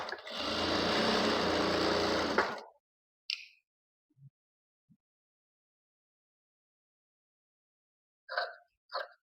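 A sewing machine stitches a boat neck blouse in a single loud, close burst of about two and a half seconds, then stops, leaving near silence broken by a few faint taps and small handling sounds.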